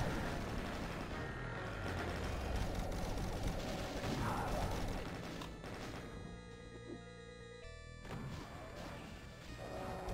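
Multiplayer shooter combat with BFG and rocket weapons, heard as a dense, continuous wash of booming blasts, crashes and rapid gunfire, loud and busy throughout with no clear gaps or talking.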